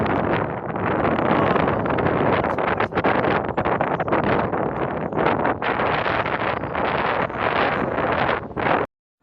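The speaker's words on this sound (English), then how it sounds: "you might not hear me talk because there's a wind occasionally" Heavy wind buffets the microphone throughout beside a lake in London, a loud continuous rumbling roar with gusty fluctuations, then it cuts off abruptly near the end.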